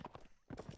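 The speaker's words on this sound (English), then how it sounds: "let me get down from my horse" Horse hooves clip-clop in the medieval combat game Mount & Blade Warband, two short bursts of quick hoofbeats separated by a brief gap, fairly near with some talk nearby.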